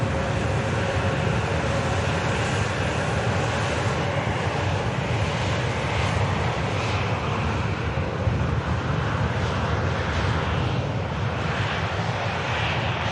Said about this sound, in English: Here's the VistaJet on the taxi.